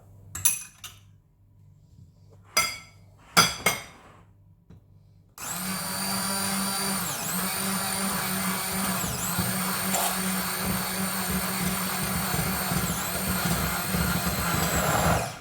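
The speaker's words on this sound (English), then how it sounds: "At this point I stop the spoon stirring and I shift to my beater." Scattered clinks and knocks give way to an electric hand beater whirring into crepe batter for coconut-filled crepes, a loud steady motor whine that dips briefly in pitch several times as the batter thickens.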